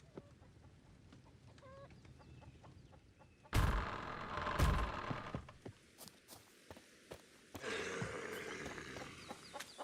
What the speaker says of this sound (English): I hear you, chicken!